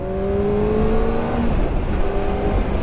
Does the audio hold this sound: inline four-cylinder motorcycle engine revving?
yes